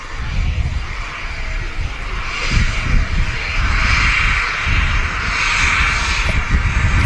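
A steady, loud roar comes from an Airbus A380 jet taxiing at Manchester Airport, its engines droning continuously close by with slight swells in intensity and no voices.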